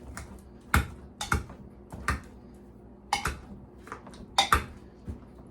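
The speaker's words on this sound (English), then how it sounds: "We're just going to start mashing our cream cheese into our potatoes." Cream cheese being mashed into cooked potatoes in a crockpot, a string of irregular sharp clacks and thumps of the masher against the pot, close and fairly loud, with quiet gaps between strikes.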